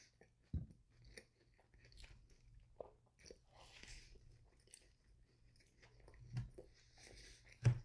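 Chewing on a McDonald's McGriddle filled with a soft, warm brownie cookie: quiet, close bites and soft squishy mastication with a few sharper crunchy moments, faint and intermittent, with no talking.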